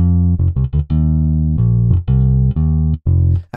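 Virtual bass guitar from Modo Bass 2 through a solid state amp plays a loud, close riff of short plucked notes and a few longer sustained ones, with clean, even attacks and brief gaps between phrases.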